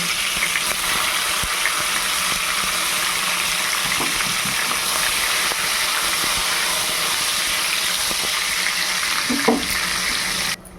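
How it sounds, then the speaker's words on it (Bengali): Eggplant frying in hot oil in a home kitchen pan, a steady dense sizzle and crackle holding evenly throughout, with a few small clinks near the end. "এই গরম তেলের মধ্যে এখন চলে যাবে বেগুন।"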